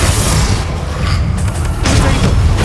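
Confringo fire-spell explosions in the video game Hogwarts Legacy, heavy booming blasts with rumbling low end that roll continuously through a loud battle, dense and close without pause.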